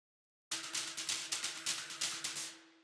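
Ironing board percussion layered with China cymbal loops in a steady, driving rhythm of bright metallic crashes and clanks, loud and close, ending in a ringing decay.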